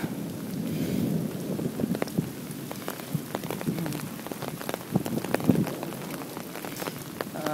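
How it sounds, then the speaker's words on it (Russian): Heavy rain falls and pelts surfaces in a dense, steady patter, with scattered louder drops and a low rumble underneath, and no one speaking. "Ну, короче говоря, я вижу дождик. Такой хороший, сильный дождик."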